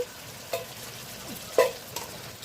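Marinated mutton sizzles quietly in a pan with oil and a splash of water, a soft low fizz broken by a few sharp clatters of stirring, no speech over it.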